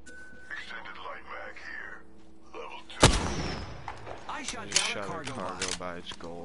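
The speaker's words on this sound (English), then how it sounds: "I can hear him shooting at something" Apex Legends gunfire breaks in as a sharp, loud shot midway, followed by a few scattered bursts, while players talk throughout.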